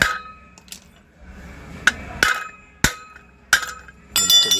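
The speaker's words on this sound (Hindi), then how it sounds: "आराम से इसको ठोकेंगे तो नीचे की तरफ चला जाएगा।" Sharp metallic taps knock at a stuck pressure cooker vent tube, about five distinct clanging strikes spaced unevenly and close by, ending in a ringing clatter.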